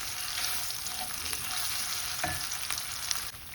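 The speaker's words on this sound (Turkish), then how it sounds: "Bir yemek kaşığı tepeleme biber salçası, domates karışık. Bunu bir güzel kavuracağım." Butter sautéing with a heaped spoon of pepper and tomato paste in a pan, giving a steady crackling sizzle with occasional faint stirring scrapes.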